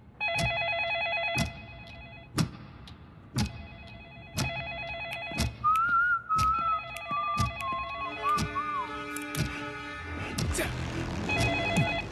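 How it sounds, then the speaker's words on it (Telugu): Telephone bell ringing in an action scene, repeated ring bursts in a regular rhythm with tonal beeps and scattered background voices and sounds, the call going unanswered. "సార్ ఫోన్ ఎత్తలేదు. మళ్ళీ ట్రై చేయి."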